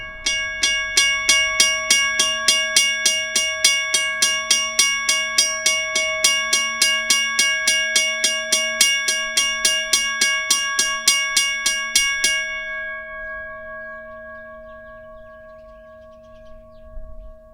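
A Western Railroad Supply railroad crossing bell fitted with an added gong strikes in a fast steady rhythm, loud, close and metallic, for about twelve seconds, then stops and leaves a long ringing decay.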